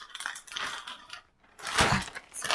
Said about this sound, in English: shoving everything back into the bag.